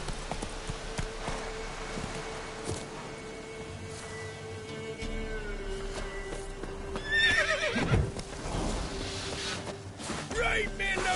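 Horse in The Witcher 3 video game neighing loudly near the end, with hooves clip-clopping and game ambience throughout, a voice speaking briefly.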